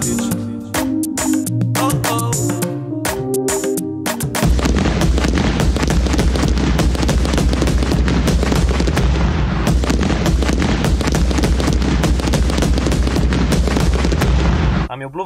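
A long string of firecrackers goes off in a dense, rapid crackling burst, loud and continuous for about ten seconds before stopping abruptly, after a few scattered pops and music at the start.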